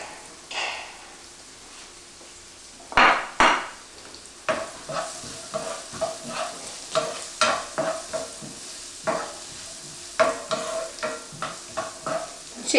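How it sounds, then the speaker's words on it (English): Red onions sizzling in a frying pan, a constant crackle broken by repeated clattering stirs and scrapes, close up with no voices. "while they sizzle, you want to take some red onions and add them immediately in."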